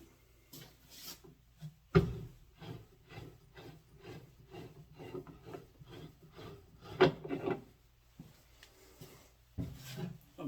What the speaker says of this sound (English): the objective of all that shear scraping was so that I could get it nice and smooth